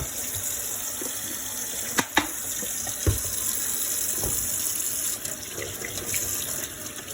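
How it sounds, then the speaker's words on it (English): Tap water runs continuously as hands are washed under it, a steady close rush with a few soft knocks and splashes against the sink. "let's wash our hands"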